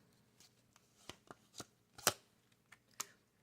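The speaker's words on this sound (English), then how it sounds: "I'm going to lay out 2 more cards." Tarot cards are laid out one at a time, giving a series of quiet, sharp slaps and flicks on a table, irregularly spaced and close by.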